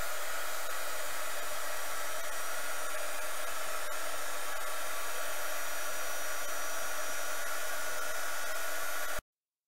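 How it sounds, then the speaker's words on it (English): A heat embossing tool blows hot air in a loud, steady, continuous hiss and whir for several seconds before cutting off abruptly, with no talking. "Alright, now I'm going to emboss this."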